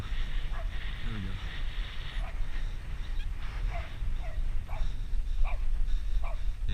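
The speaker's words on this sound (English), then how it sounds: "Getting chased by a dog again." A dog barks and yips in short, faint bursts while chasing someone outdoors. Steady wind or road rumble and movement noise mostly cover the barks.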